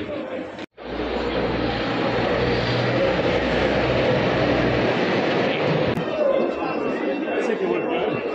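Train rumble fills a busy London Bridge station in London, a steady loud roar with crowd chatter mixed in, as fans return from a match.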